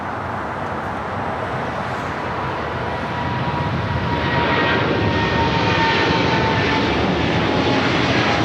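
A jet airliner rolls down runway 25 Left at Los Angeles International Airport, a loud, sustained roar of engines that swells steadily stronger as the takeoff run builds, heard from a distance without voices.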